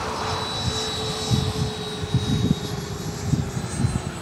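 An HSDJETS HME-262 twin 90mm EDF radio-controlled jet flies at a Florida electric jet event, giving a loud, steady ducted-fan whine with a high tonal line that shifts slowly. Faint ground noise sits underneath.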